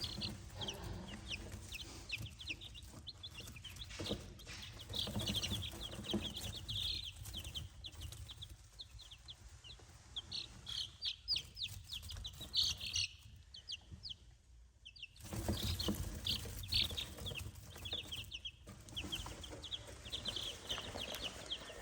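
Week-old laying chicks in a brooder peep and cheep continuously, a dense chorus of high chirps close by, with occasional rustling and a brief quiet gap midway.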